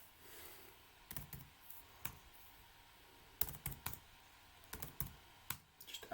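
A password is typed on a computer keyboard in short clusters of crisp key clicks with pauses between them, close and quiet, with no talking.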